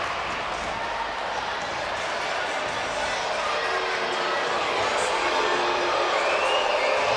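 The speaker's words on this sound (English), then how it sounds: "The Maple Grove crowd is not happy about that call" A boys' high school hockey crowd at the Edina vs. Maple Grove championship rink sends up a sustained, loud, steady wash of reaction to a penalty call, a dense murmur of many voices with no clear words.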